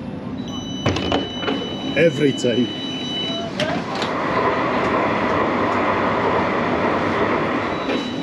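An Edinburgh tram door opens with beeps and a brief mechanical slide. The tram then moves off with a rising, steady hum, and someone speaks briefly near the start.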